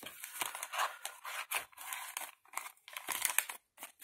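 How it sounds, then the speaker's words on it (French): Thin kraft paper, the kind used for fruit and vegetable bags, crinkles and rustles in close, repeated bursts as it is folded and handled, faint overall with brief pauses. "j'adore le bruit de ce papier kraft fin là"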